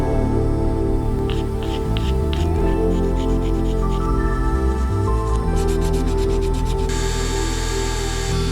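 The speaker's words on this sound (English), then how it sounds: "cleaning up the surface with a power tool and some hand sanding" Hand sanding the surface of a 3D-printed figure, with repeated raspy scraping strokes in an uneven rhythm, close and fairly loud over a steady background hum.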